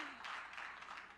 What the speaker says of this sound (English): Let's have a proper round of applause for Marlu Cornelissen.